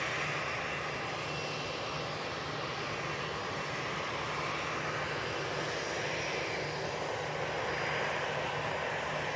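A jet airliner descends toward Manchester Airport on approach for landing, a steady broadband roar holding loud and close throughout, with no voices.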